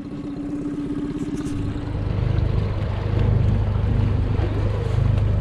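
A Tohatsu 20hp outboard motor runs on a 12-foot heavy-duty Saturn fishing boat, a low steady rumble that grows louder and more throttled midway, with water and wind noise around it.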